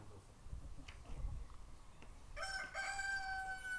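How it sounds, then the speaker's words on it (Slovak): A rooster crows once in the near distance, a clear rising-then-falling call lasting over a second, preceded by quiet rustling and faint background noise. "Kohútik teraz, pozri, aký pekný."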